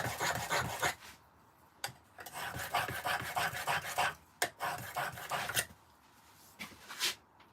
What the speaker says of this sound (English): I'm just going to sharpen them on a diamond sharpening block, which has seen better days